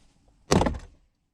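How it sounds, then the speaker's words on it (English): Ford F-150 interior door trim panel yanked off, its clips releasing in one loud, close burst of cracking and rattling that lasts about half a second. "Put your hand here, hold the door back, and just kind of pull in on the door trim."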